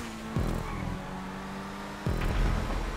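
An RE7B race car's engine in a GTA Online lap race screams at high revs, with two sharp gear changes where the pitch drops suddenly before climbing again, loud and close with no talk.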